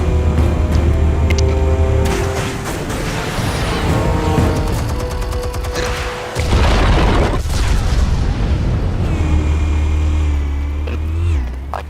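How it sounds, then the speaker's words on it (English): Explosives detonate in the Batman: The Telltale Series video game, a loud booming blast with crashing debris and a second heavy impact, layered over rumbling game sound. "Explosives armed. Fire when ready."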